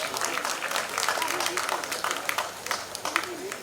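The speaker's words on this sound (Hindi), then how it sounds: "भाई जोरदार तालियां होंगे" Audience applause at the Mrs India Queen 2021 beauty pageant in Goa, steady dense clapping from a crowd that carries on for several seconds with voices beneath it.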